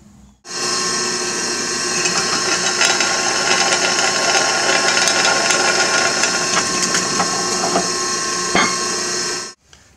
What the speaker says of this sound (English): I'm going to drill a hole now through this angle iron